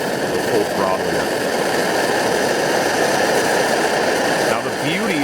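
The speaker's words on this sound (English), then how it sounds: "Turn it up a little bit more, see how the full throttle yet." Close, steady roar of an MSR Dragonfly camping stove burner turned up to full throttle, with a constant rushing hiss and no break across the whole stretch.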